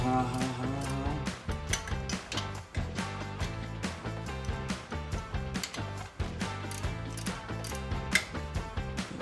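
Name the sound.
loosening bolts on a 1951 Ford F1 with a wrench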